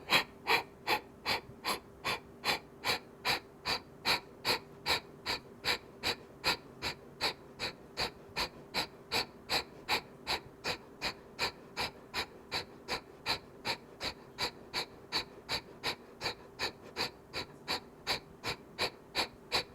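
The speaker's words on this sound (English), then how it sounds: "We'll do another round of Kapalabhati. Inhale and go." Kapalabhati yoga breathing during a morning vinyasa flow, a long steady train of sharp, forceful nasal exhalations, roughly two per second, close and evenly paced with no talking.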